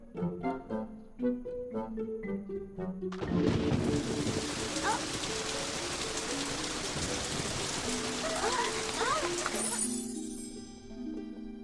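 Heavy rain pours down steadily and loudly for most of the clip, a dense hiss that starts abruptly after a few seconds of cartoon music and voices, with voices and sounds continuing faintly beneath.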